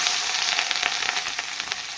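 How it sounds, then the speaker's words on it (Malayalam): Chopped ginger and mustard seeds fry in hot coconut oil, producing a bright, continuous crackling sizzle with quick popping bursts, close and steady. "കടുക് പൊട്ടി വന്നിട്ട് നമുക്ക് അതിനകത്തേക്ക് അരിഞ്ഞ് വെച്ചിരിക്കുന്ന ഇഞ്ചി ഇട്ട് കൊടുക്കാം"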